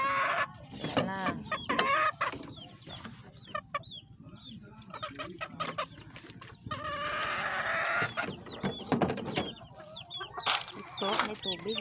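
Chickens cluck and a rooster crows at close range on a farm, in irregular bursts, while a person talks among them.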